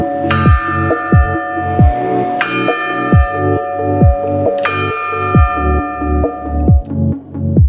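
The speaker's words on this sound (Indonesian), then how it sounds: "Loncengnya itu masih berbunyi sesuai dengan penunjuk waktu yang tertera di sana." A church clock bell in an old Dutch colonial church in Ambarawa strikes the hour with loud, ringing tolls over a steady mechanical ticking, each stroke swelling into a long shimmering hum.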